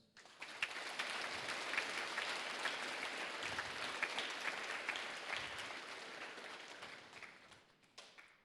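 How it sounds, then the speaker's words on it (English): A school audience at a Veterans Day assembly applauds its veterans, a steady wash of many hands clapping that lasts about eight seconds and fades slightly toward the end. "please give a round of applause to our veterans"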